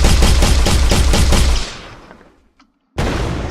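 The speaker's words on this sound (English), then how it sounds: "now they started shooting at me" Rapid machine-gun bursts from turrets in an Unreal Engine 4 game, loud and dense rhythmic shots that fade into a brief silence before another burst cuts in.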